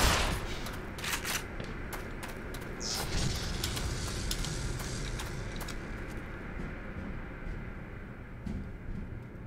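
Gunfire in the video game Black Mesa, with rapid bursts of shots in the opening seconds, then a rumbling, fading background at moderate volume, no talk.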